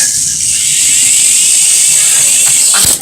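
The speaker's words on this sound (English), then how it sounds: "we're messing with the helicopter" A helicopter flies close by with a loud, steady, high whine that holds throughout, ending in a brief thump.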